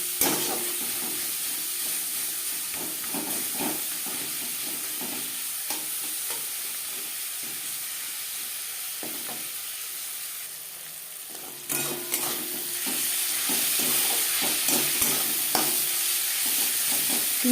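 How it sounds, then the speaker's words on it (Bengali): Onions with salt and turmeric fry in a pan with a constant hissing sizzle, while a spatula stirs in quick repeated scrapes and taps; a brief lull midway gives way to a louder, brighter sizzle, no voices. "লবণ হলুদ পেঁয়াজের সাথে বেশ ভালো করে মিক্স করে নেব।"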